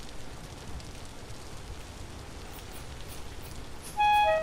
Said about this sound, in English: And it is raining heavy back at home.